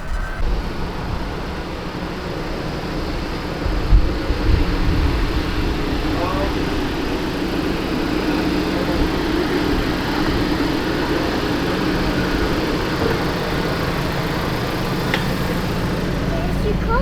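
Honda Civic Type R (FK8) idling with a new downpipe fitted, a low, steady and quiet engine hum with a faint bump of noise partway through.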